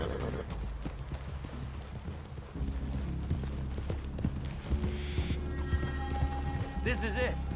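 Horses clip-clop through a clearing in the video game Red Dead Redemption 2, hoofbeats moving over a low game soundscape with a tonal music bed and a brief whinny near the end.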